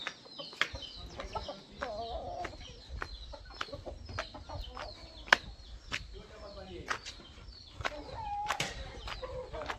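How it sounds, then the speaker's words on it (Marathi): Hens and roosters cluck and squawk in a village yard, with repeated close, irregular calls and occasional wing flaps, while people talk nearby. "कोंबड्या कुकड्या"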